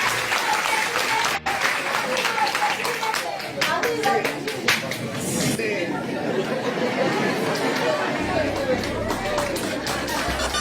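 A crowd at a Peruvian political gathering bursts into applause and cheering, loud clapping mixed with shouts and chatter from many people, swelling and thinning in waves across the span.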